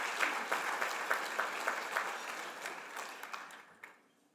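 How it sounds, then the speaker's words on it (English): An audience at a political panel event applauds, with clear individual claps at first that thin out and fade to near silence by the end, in a moderately quiet hall. "Let's give them a round of applause for their leadership and their support"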